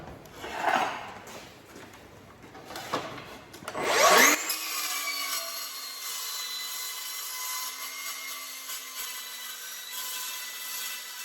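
A Milwaukee M18 FMCS66 cordless metal cutting saw cuts 5mm plate, starting with scraping and handling noises, then settling into a steady, loud, even cutting whine that runs on to the end.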